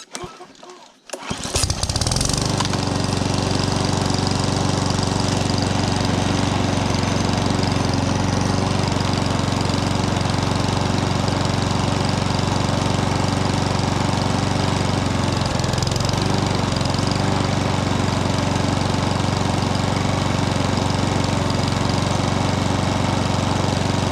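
A Mountfield lawnmower with an RS100 petrol engine, taken from a scrap job lot, catches after a brief start and runs steadily at a loud, even idle close by, no talk.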